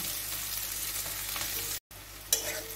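Onion frying in a pan for a gourd and shrimp curry, a steady close sizzle with scraping stir sounds, briefly cut off by a silent gap before resuming.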